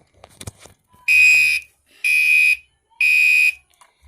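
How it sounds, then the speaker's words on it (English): Fire alarm sounding after a pull station is pulled, three loud, evenly spaced electronic tones of about half a second each, preceded by brief clicks of handling. "The alarm will also sound."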